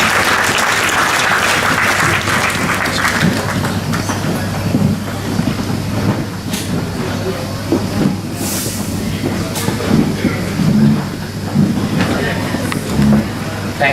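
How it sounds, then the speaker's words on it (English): A warm round of applause from a Seniors Day 2016 function audience, dense steady clapping that fills the room continuously and stays fairly loud throughout, with some murmuring mixed in. "Please welcome him with a warm round of applause."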